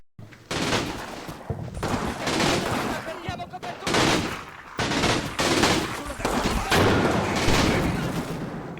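Machine gun fire in the wargame Combat Mission: dense bursts of rapid gunfire and booming shots that repeat loudly across the whole stretch, with short pauses between volleys and voices talking faintly underneath.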